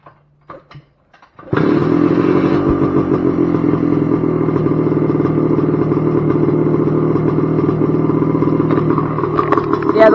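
A 1978 Yamaha IT250 two-stroke motorcycle is kick-started cold with the choke on: a few faint kick thumps, then the engine catches and runs loud and steady with a rattly idle, close by.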